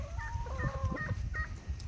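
Chickens cluck and chatter on a farm, with several overlapping short calls over a low rumbling background of wind or handling noise, near and moderately loud.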